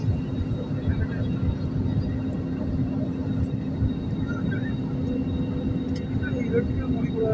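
Airliner landing on a flight from Abu Dhabi to Riyadh, heard from inside as a steady, loud cabin rumble with a constant engine hum throughout.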